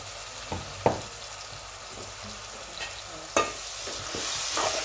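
A tomato, onion and masala paste with turmeric sautés in a pan for a fish curry. A soft, continuous sizzle runs under sharp intermittent scrapes and knocks of a spoon stirring against the pan.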